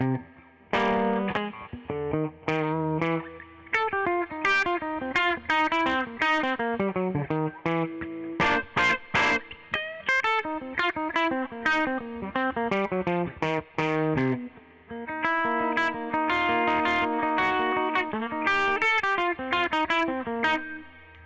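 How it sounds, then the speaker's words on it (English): Electric guitar played through a Klon-style overdrive pedal, a continuous run of driven chords and single notes with a warm, moderately distorted tone, loud and close, with no talking. "Now Jack is going to play pedal D."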